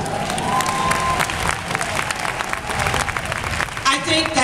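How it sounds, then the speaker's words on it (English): Audience at a Mother's Day gospel award presentation breaks into dense, loud applause with scattered cheers and shouts, sustained throughout and swelling again near the end. "I think that deserves a rounding stand of applause."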